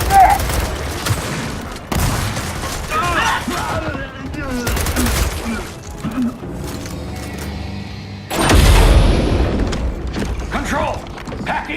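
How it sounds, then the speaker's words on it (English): Mortar blasts and bursts of gunfire erupt in Gears of War 4 combat, loud heavy impacts and rattling volleys arriving in clusters, with a big explosion near the end and voices shouting over the fighting. "Control, we got mortars incoming."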